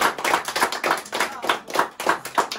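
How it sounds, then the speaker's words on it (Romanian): Applause for a man honored as best brother in the world at a village surprise celebration for a priest, a brisk, moderately loud clapping with rhythmic bursts from a small group, sounding close and mostly without talk. "Aplauze!"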